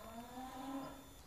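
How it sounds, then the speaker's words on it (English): Cows mooing in the distance, low drawn-out lowing calls overlapping one another, faint and with no voices. "Can you hear in the background the cows going nuts?"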